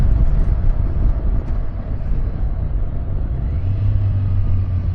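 A Kawasaki Versys 1100 motorcycle engine pulls under acceleration in sport mode, a deep continuous rumble with wind roar over it and a low droning tone rising toward the end, with no voices.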